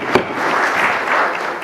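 Audience applause breaks out at a Cape Coral city council committee meeting: a brief, dense burst of many hands clapping at once, steady and fairly close, filling the room.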